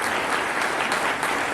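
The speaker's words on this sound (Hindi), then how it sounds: "जोरदार तालियां हो जाए एनएसएस के लिए" A school audience on Independence Day claps for the NSS group, a brief but thick, even burst of many hands applauding together.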